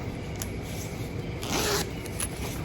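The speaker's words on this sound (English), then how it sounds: "You've got a little zippered pocket here" A small zipper is drawn open on the accessory pocket of a beginner tobacco pipe kit pouch, a quick, close rasping pull lasting under a second, heard alone in a quiet room.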